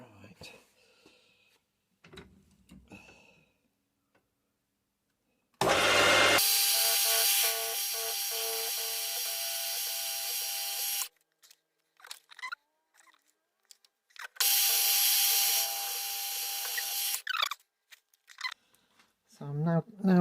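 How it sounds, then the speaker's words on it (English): Two bursts of high-pitched drilling whine from a small rotary tool with a 2 mm FC3 cutter drilling vertically into a model steam tram motor's inlet port, the first about five seconds long and the second shorter, separated by quiet handling noises. "So to start the hole off, I'm using a 2 mil FC3 cutter. I'm just drilling it vertically"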